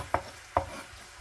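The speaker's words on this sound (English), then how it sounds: "Let me give that hamburger a stir" Hamburger meat frying in a pan is stirred with two quick scraping strokes of a utensil against the pan, faint and close over a low background hiss.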